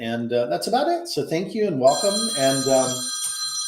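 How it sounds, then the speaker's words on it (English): A phone alarm starts ringing partway through with a bright, steady electronic tone at moderate volume, overlapping someone speaking at a drinks tasting event. "That's my alarm."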